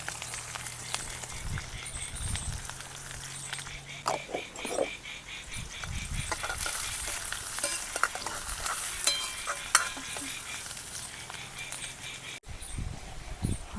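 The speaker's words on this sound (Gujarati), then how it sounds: "મીઠો લીમડો લીધો છે એ નાખી દઈએ. લીલા મરચાં છે, ડુંગળી લીધી હતી." Curry leaves and green chillies sizzle and crackle in hot oil in a village kitchen, with bursts of stirring and spoon scraping, a dog barking faintly in the background and a brief voice under the frying.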